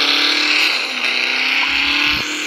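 Racing car engine in a video game, a loud continuous engine drone with slight pitch shifts and no talking.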